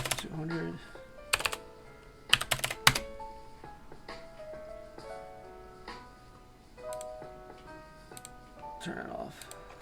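Computer keyboard typing in irregular bursts of sharp clicks and clacks, some clustered into quick runs, under someone talking.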